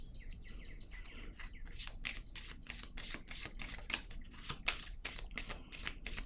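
Playing cards are shuffled close by in quick, rhythmic riffling bursts, about a dozen soft papery flurries in a row, heard alone at low volume.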